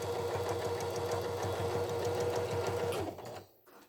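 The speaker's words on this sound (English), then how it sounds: "So back stitch to the end, and then straight across." A sewing machine back stitches to the end of a row, its rapid needle pulses loud and close for about three seconds. The motor then stops abruptly, leaving brief quiet handling noise.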